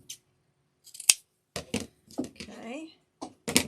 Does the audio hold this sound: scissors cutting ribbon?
yes